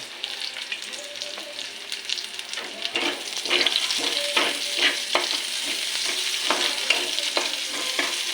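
Pork and chicken frying in hot oil for afritada, a steady loud sizzle with repeated stirring scrapes through the middle and end.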